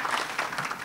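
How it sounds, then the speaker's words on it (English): Brief, faint patter of audience clapping at a parents' panel on raising transgender and non-binary youth, a soft, muffled wash of hands heard from a distance. "let's clap"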